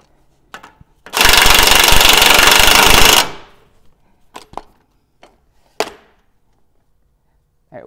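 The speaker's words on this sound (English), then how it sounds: "sometimes it's helpful to get it started with an impact" An impact wrench hammers a castle nut onto the CV axle of a 100 Series Land Cruiser in a loud two-second rattling burst, then a few scattered clicks and clanks of tools in a quiet space.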